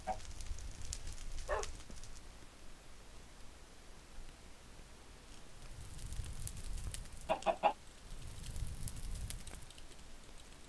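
Minecraft chickens cluck in two short, soft bursts, one early and a tighter cluster later, over a low, steady game background with no voices.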